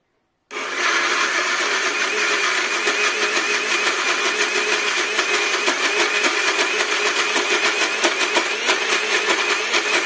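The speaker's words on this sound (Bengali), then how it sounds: "মিক্সিতে দিয়ে দিই।" A mixer grinder at home blends gram flour dhokla batter, starting abruptly after half a second into a loud, steady motor whir that holds unbroken to the end, with no talking.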